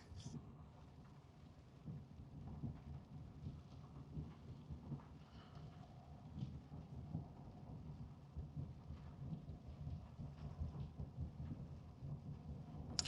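Steady rain and low rumbling thunder fill the cabin during a drive in New Mexico, a continuous dense wash with soft rolling surges and no voices.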